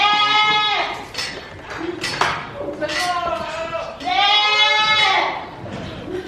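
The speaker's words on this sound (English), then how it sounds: "Lots of sheep and goats" Goats and sheep in pens at a livestock auction bleat loudly and close by, several long wavering calls overlapping one after another, with faint metallic clinks between them.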